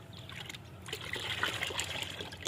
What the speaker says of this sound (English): To use the mixture, dilute it by adding the 1 liter of prepared solution into